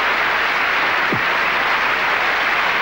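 Loud, sustained applause from a theatre audience at the 1989 Royal Variety Show, a dense continuous wash of clapping filling the whole stretch.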